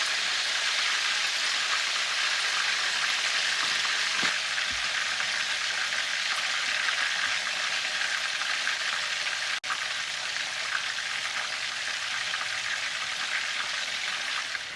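Salt water cusk fish fries in a pan with a steady, hissing sizzle that stays even and close throughout, broken only by a single faint click.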